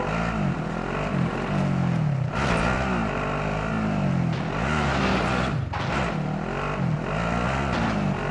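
A vehicle engine drones continuously while driving in the video game Warzone, rising and falling in pitch as it revs, loud and close throughout.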